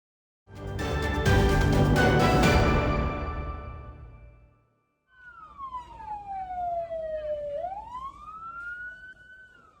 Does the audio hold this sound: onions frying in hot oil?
no